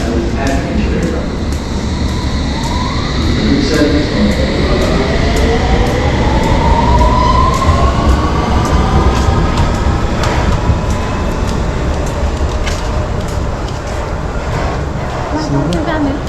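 A London Underground train rumbles loudly and steadily through a tunnel, with a rising and falling whine from the motors and brakes. A voice on the train can be heard over the constant roar.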